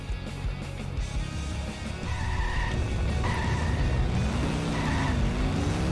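Car driving and skidding in The Simpsons: Hit & Run, with a loud engine drone and tire squeals that rise and fall across the run.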